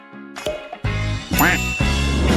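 A cartoonish duck quacks several times in a loud, nasal, toy-like way, with jingly effect sounds in between.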